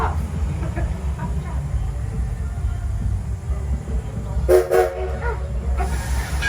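A passenger excursion train rolls along toward Smiths Creek Station, giving a steady low rumble with brief higher squeals or whistle-like tones partway through and faint background voices.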